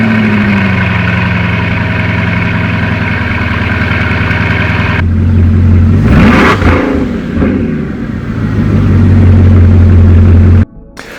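A Bugatti Chiron engine idles loudly and close, a steady low hum that swells and revs midway before settling back to idle and cutting off near the end.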